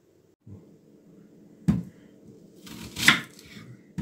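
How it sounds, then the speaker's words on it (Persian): A knife dices onions on a cutting board in a home kitchen. A few distinct thuds and chops sit over a low background hum, with one sharper, louder cut near the end. "پیازاتون رو باید به این صورت نگینی خرد کنید"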